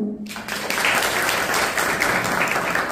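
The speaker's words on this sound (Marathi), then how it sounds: "एकदा टाळ्या वाजवायला" Audience at a college lecture event clapping together, a dense, steady round of applause that starts abruptly and carries on loudly to the end.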